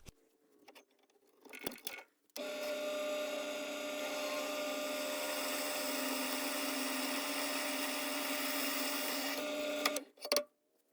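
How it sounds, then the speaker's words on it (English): Power drill boring a hole through a Grizzly 2x42 grinder platen, one sustained whirring run of about eight seconds between short start and stop bursts, close and steady, no talking. "where we're going to have to drill this hole"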